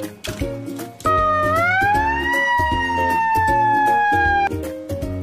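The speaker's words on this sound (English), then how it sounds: "Fire truck." A fire truck siren wails as a single tone that rises, holds high and eases down, loud and up close above rhythmic backing music.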